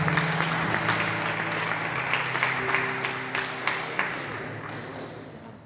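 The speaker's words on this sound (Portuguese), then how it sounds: "louve ao Senhor com suas palmas," Church congregation at an evangelical Pentecostal service claps in praise, a steady wash of applause with sharper individual claps standing out, along with some sustained tonal sounds underneath.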